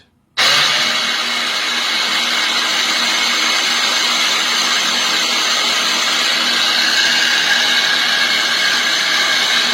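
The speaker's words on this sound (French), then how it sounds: "il va rouler mon moteur à la vitesse là, le slow speed" A small electric motor on an embedded-systems test bench runs steadily at its slow speed setting, a loud continuous whine and hum that starts abruptly after a brief silence and holds unchanged throughout.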